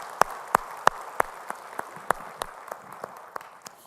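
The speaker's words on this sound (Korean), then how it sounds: "우리 찬양받을 주님께 영광의 박수 올리겠습니다" A church congregation claps together in an even, steady rhythm of sharp, distinct claps, each about a third of a second apart, starting strong and gradually thinning and fading.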